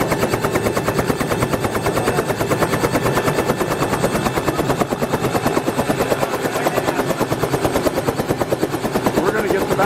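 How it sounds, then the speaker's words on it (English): A helicopter in Nepal produces a loud, close, rapid rhythmic chopping of rotor blades that continues unbroken over a steady engine drone. "Looks like a nice helicopter."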